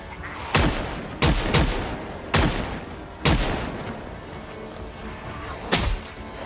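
Gunshots from a firearm in Project Zomboid, five sharp, loud reports spaced irregularly over a steady background, each with a short ringing tail.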